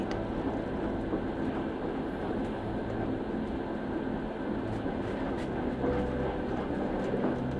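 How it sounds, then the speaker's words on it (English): A train rolling along steel rails with a steady, continuous low rumble and mechanical hum, a constant near drone with no talk. "Listen to the train as it gently chugs along"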